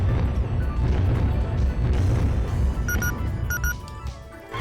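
Fireworks in the PS1 racing game Choro Q 3, a dense run of booming, crackling bursts that fill the whole stretch without a break, loud and close with no talking.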